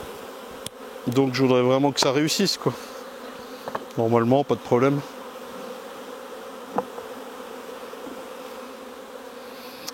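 Honey bees swarm around an opened hive, many of them older, defensive bees, making a dense, continuous close-up buzz while someone speaks French over it.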